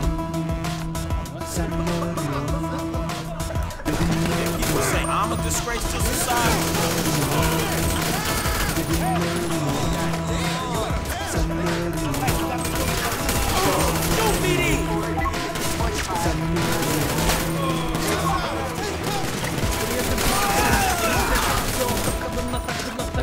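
Rapid bursts of gunfire in the GTA 5 video game crackle steadily and loudly throughout, with repeated volleys over a constant droning game background and a voice speaking at times.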